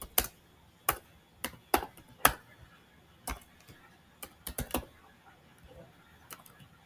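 Sharp, irregular keystrokes on a computer keyboard while someone types C++ code, about a dozen close, distinct clicks spread unevenly with short pauses and no talking.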